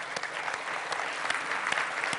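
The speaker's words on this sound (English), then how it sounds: "let's give another round of applause to all the winners of that" A crowd at an awards event applauds its winners with steady, dense clapping that carries on continuously, individual claps popping out of the wash.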